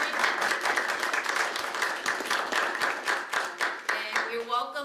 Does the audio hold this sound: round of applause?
yes